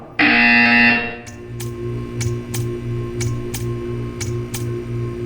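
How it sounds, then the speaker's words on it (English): A loud electronic buzzer in Portal 2 sounds once for about a second, followed by a series of sharp ticking clicks over a low pulsing hum. "You will hear a buzzer"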